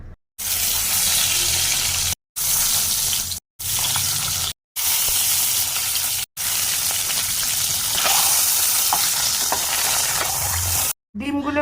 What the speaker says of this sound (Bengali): এবার ডিমগুলোকে হালকা করে নুন হলুদ মাখিয়েও ভেজে নেব।